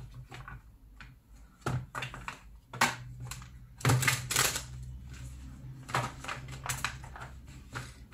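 A deck of oracle cards shuffled by hand three times, with sharp riffling flutters and soft taps in irregular bursts, close up with no talking.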